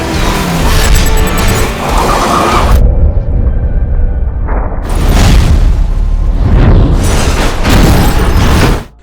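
A film scene of a race car hit by a tracking missile and set on fire: loud booming explosions and a roaring blast fill the track, with a brief lull before further heavy bursts and rumbling that end abruptly.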